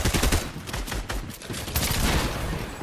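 Gunfire in a video game shooter, with rapid overlapping bursts of shots crackling in a dense, loud barrage that barely lets up.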